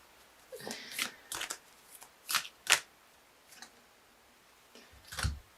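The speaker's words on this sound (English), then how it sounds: "I'm going to quickly pull a Wild Kuan Yin Oracle card for my dear Libras." Wild Kuan Yin Oracle cards being shuffled by hand, a series of crisp riffling bursts coming in short irregular clusters at close range, with quiet gaps in between and no talking.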